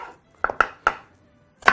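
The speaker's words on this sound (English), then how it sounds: "we're going to begin by chopping up some of our onion" Onion being chopped with a knife on a cutting board in a home kitchen, heard as four or five crisp, close blade strikes in an irregular rhythm with short pauses between them, and no talking.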